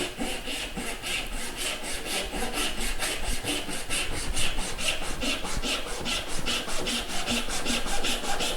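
A hand saw cuts through wood with full, even strokes, each one making a rhythmic rasping scrape in a steady back-and-forth pattern, close and alone.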